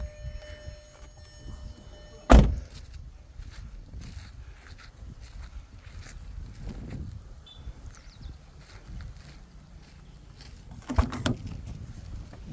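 A 2020 Hyundai Venue S+ automatic petrol car has its door opened and shut, giving two solid thumps several seconds apart against a quiet, faintly noisy outdoor background.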